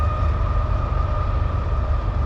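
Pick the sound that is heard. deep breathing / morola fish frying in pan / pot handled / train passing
train passing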